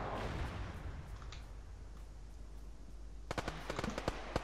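Explosives detonating in a military shooter game: a dull, faint rumble at first, then a rapid cluster of sharp cracking pops near the end, all fairly distant and quiet.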